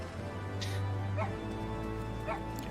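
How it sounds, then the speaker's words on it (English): A few faint dog barks and yips in the distance over a steady low hum and background noise, in an Audi GT3 racing game at Monza. "Wait, I hear barking."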